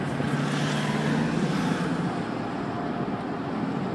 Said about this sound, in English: Got a big truck there.